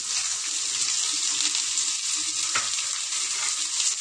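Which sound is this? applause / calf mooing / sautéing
sautéing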